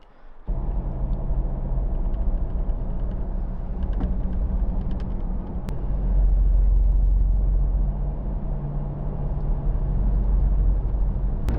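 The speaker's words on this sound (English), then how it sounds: "You do hear a little bit of wind noise" Inside a Gen 3 Ford Raptor fitted with a GFC camper on the road, a steady low rumble and broadband wind rush hold at constant loudness, swelling slightly partway through, with no talking.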